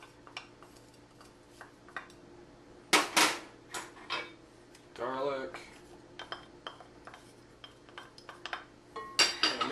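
Garlic and ginger are mixed together in a bowl for Chinese XO sauce, producing close, irregular clinks and scrapes of a utensil against the dish, with a few sharper knocks between quieter stretches.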